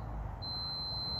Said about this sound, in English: give me an audible alarm, constant audible alarm